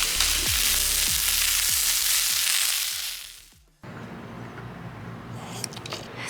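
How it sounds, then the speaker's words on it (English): Bison meat frying in a pan over low heat, a steady close sizzle with small pops that cuts off abruptly near the end, followed by a quieter, duller frying hiss. "the thing about bison, I guess, is it's just super easy to overcook it. So we'll just turn the heat down and"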